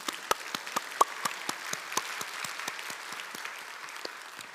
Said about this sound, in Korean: 이 땅에 어머니의 이름으로 살아가는 우리 모든 분들을 위해서 한번 박수로 축복했으면 좋겠습니다